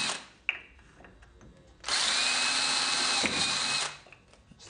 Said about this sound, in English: So put a couple of holes in the lid.